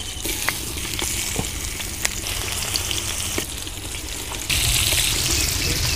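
Fish dropped into hot oil in a pan, a loud, close, continuous sizzling hiss with occasional crackles, surging louder toward the end, with no speech.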